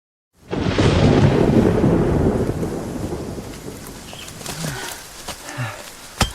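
A thunderstorm with heavy rain on a mountain, a loud rolling thunderclap that swells fast and fades into steady rain with scattered nearer drips.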